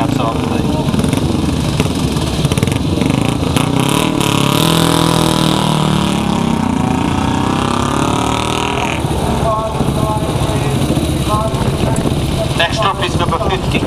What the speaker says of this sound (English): This is a KTT Velo, 350cc. And again, listen to the exhaust note, it's beautiful